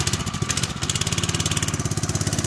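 A Scout off-road utility motorcycle for rural use runs while being ridden, its engine putting out a steady, rapid, close and loud thumping rhythm with a brief throttle change near the start.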